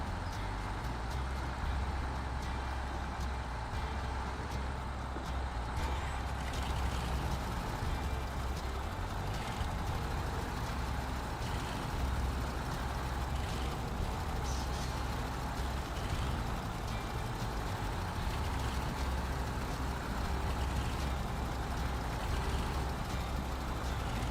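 A heavy truck engine drones steadily in the off-road driving game SnowRunner, a dense low rumble with a constant mechanical hum that holds level for the whole stretch without pauses.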